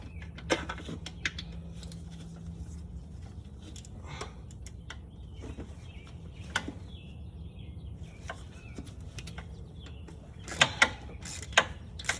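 A small wrench works a bolt inside a 2006 Saleen Mustang engine bay during a cam install, giving scattered faint metallic clicks and ratcheting ticks with a louder cluster of sharp clicks near the end, over low background hum.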